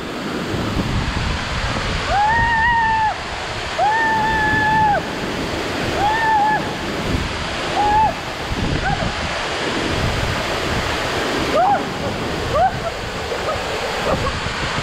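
Loud, roaring rush of mountain water in a forest fills the whole clip, a constant heavy churn with brief higher tonal calls or voices breaking through now and then.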